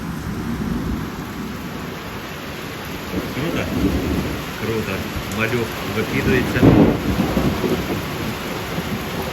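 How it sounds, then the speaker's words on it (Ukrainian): Heavy rain and rolling thunder in a thunderstorm at a lakeside carp-fishing spot, heard from shelter in a gazebo. The downpour is loud and steady throughout, with a thunder rumble swelling near the end, while people talk over it. "Дощ сьогодні надовго."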